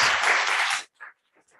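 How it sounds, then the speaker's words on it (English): An audience applauds panelists after a talk on black holes, a dense burst of clapping that stops abruptly after under a second, followed by brief faint sounds. "let's give a round of applause to our wonderful panelists"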